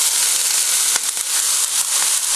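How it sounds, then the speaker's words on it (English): Onion sautéing in about two tablespoons of hot olive oil for Filipino empanada filling, a loud steady sizzle with soft crackles and a couple of brief spatters, no voices. "I'm going to put about 2 tablespoons of olive oil. And then we're going to saute the onion first."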